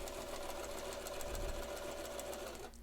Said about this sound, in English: We're just sewing a straight line.